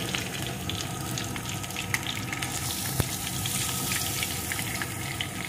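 Mixed vegetables and rinsed dal are stirred together in hot oil, giving a steady, close sizzle throughout with occasional soft scrapes and clicks of the spoon against the pan.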